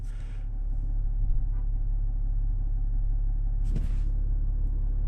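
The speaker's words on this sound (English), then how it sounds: "Now at idle like this, you do hear that little bit of a diesel type sound." A 2021 Chevrolet Suburban RST with a 3.0L Duramax turbo diesel engine idles close by in a steady, low rumble with a faint diesel clatter, holding even throughout with one brief brighter burst near the end.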